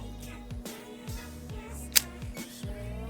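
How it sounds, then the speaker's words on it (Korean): A Pentax ME Super film camera's shutter fires in bulb mode, giving one sharp mechanical click amid quiet handling noise and low background hum. "내가 누르고 있는 동안 찰칵 이렇게 되는 거예요 찰 소리를 들어보세요"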